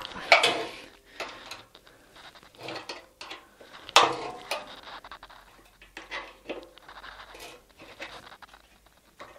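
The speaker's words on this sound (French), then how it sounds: "couper la tôle." Sheet metal from a damaged front wing of a Nissan Micra K12 is being cut with a hand tool, giving irregular scraping, snipping and ratcheting clicks with short pauses in between, close and fairly quiet.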